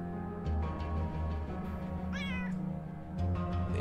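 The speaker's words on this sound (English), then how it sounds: "Yes, it's a cat." A cat meows once in the video game Underrail, a short rising call over a steady droning game soundscape, with no talking.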